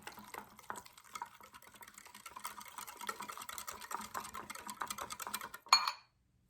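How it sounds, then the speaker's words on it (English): Eggless cupcake batter is mixed with warm milk in a small bowl, making a faint, steady wet scraping and tapping that builds gradually and ends in a brief louder clink. "Mix it well."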